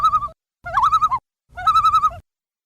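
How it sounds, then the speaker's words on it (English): A common loon gives three spooky, wavering tremolo calls, each a quivering warble under a second long, separated by short silences, clear and fairly close with no other sounds. "Loons sometimes make a really spooky tremolo sound."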